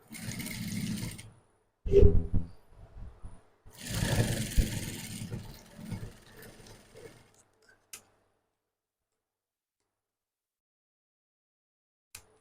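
A sewing machine stitches a cape sleeve in bursts of rapid mechanical whirring and ticking, separated by short pauses, then stops, leaving near silence broken by a couple of faint clicks.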